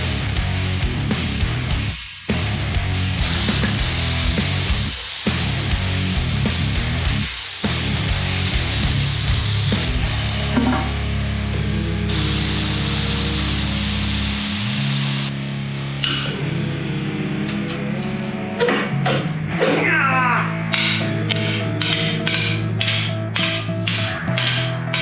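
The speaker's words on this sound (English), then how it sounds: "Now it's time to take the sump off and get the rods out" Hand tools work on the sump and connecting rods of a Ford Barra engine, with rapid ratchet clicking, metallic taps and clanks, and scraping mechanical noise, loud and close and continuing throughout.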